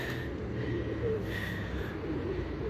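Tumbler pigeons cooing nearby, soft low repeated coos over a steady background, with no talking.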